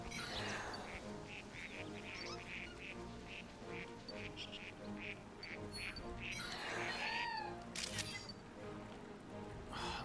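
Bird Pokémon squawk and call in the video game Pokémon Snap, repeated sharp cries and a swooping call over game background sound, with camera shutter clicks.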